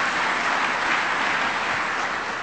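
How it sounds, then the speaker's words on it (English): A large audience at MIT applauds, dense steady clapping that fills the whole moment at full strength without a break. "Deserves a big round of applause"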